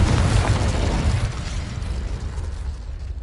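The Confringo fire spell explosion in the video game Hogwarts Legacy: a loud, dense blast with a deep booming low end that decays into a rushing, crackling roar, no voices.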